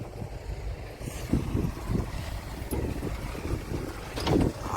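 A low, steady engine rumble runs throughout, close by and fairly loud, with some wind buffeting the microphone and no voices.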